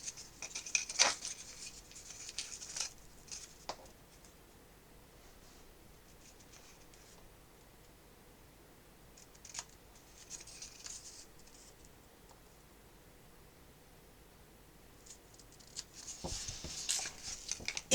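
Scissors snip and bevel the edges of scrapbook album paper. Quiet crisp cuts come in short clusters near the start, around the middle and at the end, with faint rustling between them in a hushed room.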